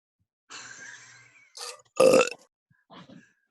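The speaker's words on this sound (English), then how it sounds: "we got a burp in there" A single loud, close burp erupts in the middle, framed by short bursts of muffled, indistinct sound before and after it.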